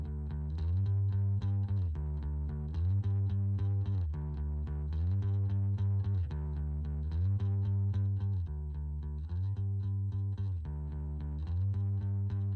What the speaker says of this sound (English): The bass mic sounds like this.